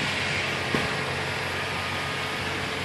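A 1998 Toyota Tacoma 4x4 access cab with an automatic transmission idles on its four-cylinder engine, a steady, even hum with one small knock near the start and no voices.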